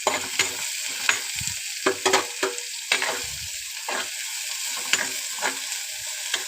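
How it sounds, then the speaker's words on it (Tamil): Grated garlic, ginger and curry leaves sautéing in a pan, a constant bright sizzle broken by repeated scraping strokes of a spatula, close and fairly loud. "இதெல்லாம் நல்லா வதங்கட்டும்"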